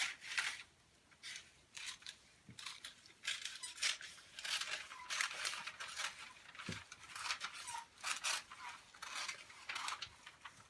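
Scissors cut a paper dress pattern for a cowl-neck gown. The blades give a quiet, close run of rhythmic snips and squeaks with short pauses between them, and no one speaks.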